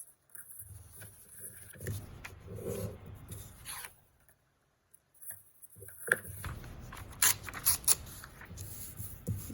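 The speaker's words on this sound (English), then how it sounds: "If you have a scissors too, you can use scissors." Scissors snip through paper in several short, close cutting bursts separated by pauses, with light rustling of the sheet in between.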